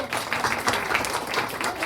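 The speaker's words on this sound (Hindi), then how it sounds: "दोनों बच्चों के लिए हम जोरदार ताली बजा देंगे" Audience applause for two children at a Christmas celebration, a steady wash of clapping from many hands lasting a couple of seconds, moderately loud with faint voices mixed in.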